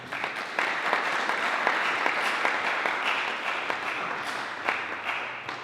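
Sustained applause from an audience greeting a presenter at a university faculty lecture, steady dense clapping running throughout with a few sharper claps standing out.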